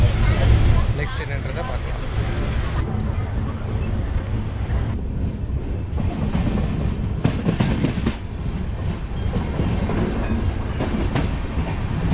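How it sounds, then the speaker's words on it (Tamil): An Intercity Express train pulling out of Erode junction in Tamil Nadu, heard from on board: steady loud rumble with rhythmic clickety-clack of wheels over rail joints and occasional squeal, continuous throughout. "இந்த இன்டர்சிட்டி எக்ஸ்பிரஸ் ஈரோட்லேருந்தும் கிளம்பிடுச்சு"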